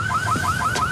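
A car alarm wails close by in a rapid, repeating rising siren sweep, loud and steady, with nothing else heard over it.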